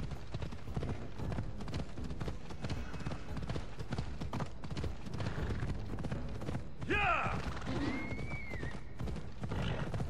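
A horse in Assassin's Creed Odyssey trots with a steady, rapid clip-clop of hooves throughout, and a clear whinny rises over the hoofbeats partway through.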